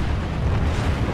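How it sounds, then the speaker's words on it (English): Explosion of a destroyed generator in the video game Planetside 2, a dense continuous rumbling blast with low booming weight, loud and steady throughout with no speech over it. "Generator destroyed."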